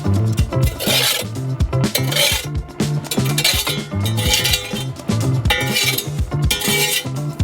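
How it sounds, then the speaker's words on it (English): A metal tool rakes hot coals to the sides inside a stove, making loud, close, repeated rasping scrapes mixed with metallic clinks and knocks, with no talking. "Rake the coals to the sides."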